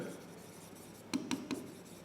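Three quick, light strokes of writing on a board during an accounts lesson, each a short scratchy tap in a quiet room, spaced about a fifth of a second apart.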